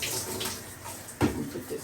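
Warm tap water runs softly while natural hair is rinsed on wash day, a low continuous splash with a brief louder gush in the middle.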